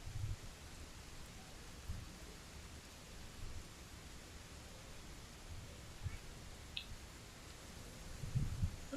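Steady rain falls in Monster Hunter World: Iceborne, a dense even hiss filling the scene for the whole stretch, with a few faint low thumps and small splashes near the end.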